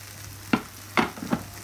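Purple sprouting broccoli goes into a hot frying pan with a tinned-tomato mixture, giving three short close bursts of sizzling and stirring over a low steady hum.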